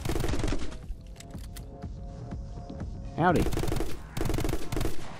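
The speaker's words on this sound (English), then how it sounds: "Is a sniper rifle. It does a lot of damage." Sniper rifle fire from the video game My Friend Pedro: a few heavy, booming shots in short bursts over game sounds, with a voice speaking briefly between them.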